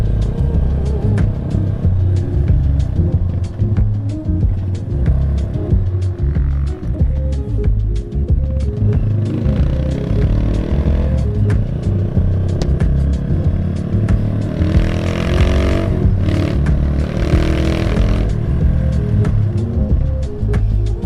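A custom motorcycle with a detached brake pad idles steadily and loudly up close for about twenty seconds, its rough engine drone continuous with a couple of brief revs near the end.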